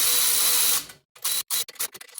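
A ratchet tightens steering stabilizer bolts on a Plymouth Trailduster with a Dana 60 axle, giving a few quick, close clicking bursts after a short stretch of steady noise.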